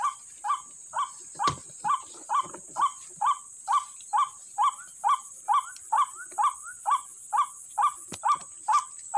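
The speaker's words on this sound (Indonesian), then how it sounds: "ini burungnya rame banget ya di sini" White-breasted waterhens (ruak-ruak) call at a bird-trap site in dense brush. A loud, close bird gives a steady run of about twenty repeated honking calls, one roughly every half second, with no talk.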